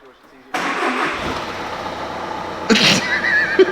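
A stanced, rebuilt BMW E36 cranks and fires, settling into a steady idle, with a second loud surge a couple of seconds later, close and prominent.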